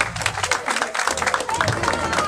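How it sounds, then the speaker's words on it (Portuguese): An outdoor crowd at a tribute event claps for a performer named Zé Manel, uneven scattered applause mixed with voices and a few shouts, moderately loud. "Um salva de palmas para Zé Manel"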